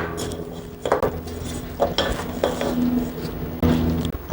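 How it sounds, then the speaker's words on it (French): Sushi rice being mixed with its seasoning in a bowl, with close scraping strokes and a few clinks and knocks of a utensil against the bowl, no talk. "Vous pouvez maintenant bien mélanger votre riz."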